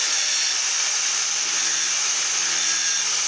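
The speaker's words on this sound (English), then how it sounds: "having to grind off a part of an old frame" An angle grinder cuts away part of an old BSA C15 motorcycle frame at a brazed bracket, giving a steady, loud high-pitched whine with a harsh hiss that stays unbroken throughout.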